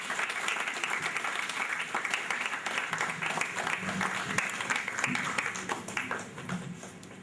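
Sustained applause from an audience at a Get Nigeria Reading event, dense steady clapping filling the room for several seconds, with faint voices mixed in.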